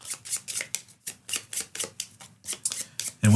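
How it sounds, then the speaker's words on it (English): Riffle shuffling of a deck of game cards for the board game Leviathan Wilds, a quick series of crisp rippling bursts in a steady rhythm, close and clear, with no talking. "So the next thing we're going to do, shuffle all these cards up"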